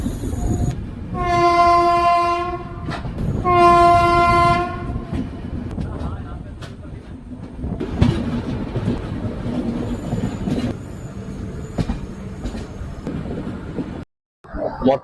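AP Sampark Kranti Express running on the line to Tirupati: two long, loud harmonic horn blasts near the start, then steady rumbling wheel noise and rattling coaches continuing throughout.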